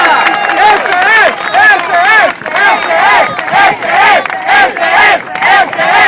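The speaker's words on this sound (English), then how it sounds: "You're learning a Spanish cheer today, Robert." At a campaign rally for a state senate run, a crowd chants a rhythmic Spanish cheer in unison, loud close bursts of voices repeating in a steady call pattern.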